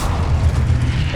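Hogwarts Legacy spell explosions roll out as a continuous heavy, low booming rumble, loud and close, with no speech over it.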